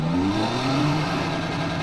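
Porsche 911 GT3 engine held at its 6,800 rpm red line inside a car at a Porsche museum in Germany, a loud, steady, close-up high-rev drone lasting under two seconds with no talk.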